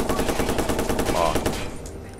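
Rapid automatic gunfire from Watch Dogs, a fast even string of loud shots that runs for almost two seconds before breaking off.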